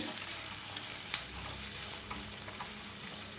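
Finely grated green chillies and curry leaves fry in a pan for a cabbage and egg fry, giving a quiet, even sizzle throughout with one small click, close but soft.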